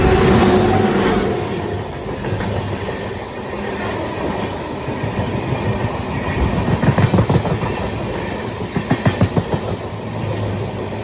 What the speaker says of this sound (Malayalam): ഒരു ട്രെയിൻ പാസ് ചെയ്ത് വരുന്നുണ്ട്.